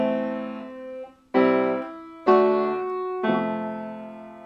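Piano plays a chord phrase: four sustained chords struck in sequence at roughly one-second intervals, each ringing and decaying, loud and close with no talking.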